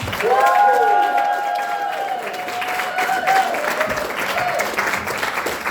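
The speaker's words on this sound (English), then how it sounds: "Robert, Alison, start applauding here." A comedy club audience applauds and cheers as a comedian is welcomed on stage, dense clapping with some whoops and a short voice over it, steady and fairly loud throughout.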